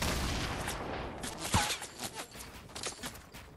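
Video game gunfire from a shooter match, with dense overlapping shots and rattling bursts in a busy, loud mix. No voices rise clearly above it.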